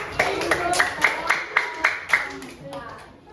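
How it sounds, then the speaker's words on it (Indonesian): Children in an elementary school classroom clap together in a steady rhythmic pattern of about nine distinct claps, with young voices chattering underneath. "Kasih tepuk tangan."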